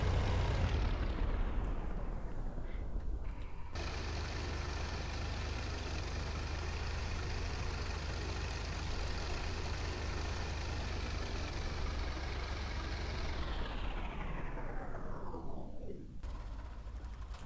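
A Cirrus SR20 piston engine in the X-Plane 10 flight simulator catches after a brief start, settles into a loud, even, continuous drone and then winds down smoothly to near silence near the end.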